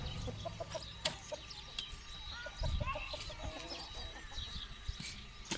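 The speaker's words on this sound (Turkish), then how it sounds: "Burada tavuklarımız." A group of chickens clucks and murmurs continuously nearby, with scattered clicks and scuffing sounds and a low background rumble.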